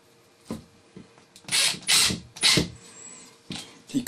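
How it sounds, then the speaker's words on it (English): A Milwaukee M18 Fuel impact driver sinks tiny half-inch screws into kitchen cabinet feet, giving several short, loud bursts of rapid hammering whir, each about half a second long, separated by brief pauses. "the beauty of an impact driver is you don't have to absolutely wrench it down onto the work."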